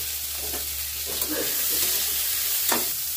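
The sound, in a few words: chopped chilli and onion frying in mustard oil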